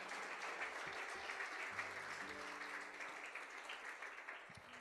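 A church congregation applauding, a dense, even wash of many hands clapping that continues steadily throughout, with faint low tones underneath.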